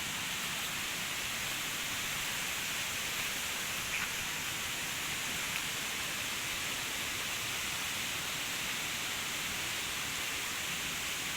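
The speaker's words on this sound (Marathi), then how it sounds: "आमचो आयऱ्याचो हिडन वॉटरफॉल तो बघूया किती जोरा धावतो तो" A hidden waterfall in a Konkan village rushes as a continuous, even wash of broadband noise, unchanging and steady throughout with no voices.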